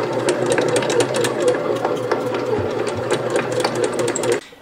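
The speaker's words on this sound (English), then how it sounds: "that is going to knead the dough for us, get it all mixed up, and then it will help rise" A bread machine kneads pizza dough with a steady mechanical whirring hum and rapid rattling ticks, continuous and close for over four seconds, then it stops abruptly.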